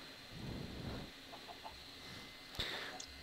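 A chicken in the Minecraft SkyBlock video game gives soft clucks with a short game sound effect partway through, all quiet and without talk.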